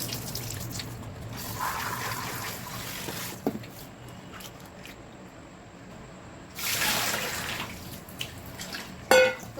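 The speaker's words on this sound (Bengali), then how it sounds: "তো আমি মটরগুলো ভালো করে ধুয়ে নিচ্ছি" Green peas are washed by hand in a bowl of water, with sloshing, trickling and a few drips, then a louder splashing burst near the end.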